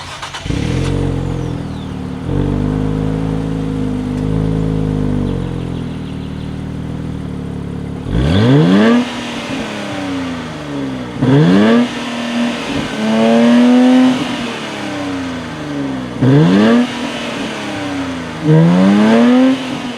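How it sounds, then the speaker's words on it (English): A 2023 Nissan Z sports car engine idles with a deep rumble through dual exhaust, then revs hard several times in quick bursts, each climbing and falling back, loud and close. "I'll go ahead and give you some revs and let you form your own opinion on what you think it sounds like"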